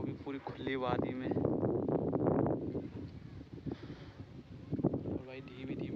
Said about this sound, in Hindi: धीमी धीमी हवा चल रही है